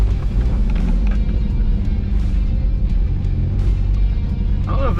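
An abandoned 1980s Mazda pickup truck engine idles after sitting for 30 years, a loud steady low rumble close by, with faint clanks and a brief higher sound near the end.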